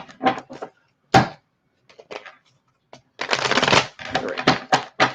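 Bursts of tarot card shuffling, several riffles and crisp flutters with short pauses between, close and fairly loud, with no talk.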